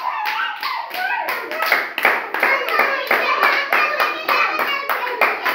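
Children in a classroom activity clap their hands in uneven bursts, close and crisp, with a few small voices chiming in between the claps.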